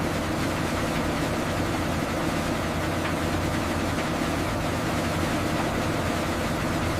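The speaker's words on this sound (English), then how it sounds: "Powerful positive displacement pumps move this thick, resistant material through stainless steel arteries" Powerful positive displacement pumps in a modern chili factory push thick chili mash through stainless steel pipes, giving a constant heavy industrial drone and rumble with broad noise, unbroken throughout.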